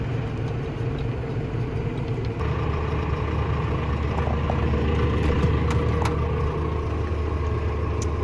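A combine harvester in a corn field runs at a steady mid-pitched drone while its grain auger swings out, the engine note thickening slightly partway through.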